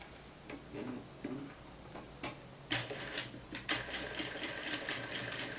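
A sewing machine runs a short seam on a blouse collar, its rapid ticking needle close and clear, starting softly and then picking up into a brisk, steady burst of stitching.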